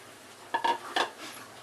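A spoon briefly stirs a thick gram flour and rice flour batter in a bowl, two or three soft wet scraping swishes, quiet and close, with no talking.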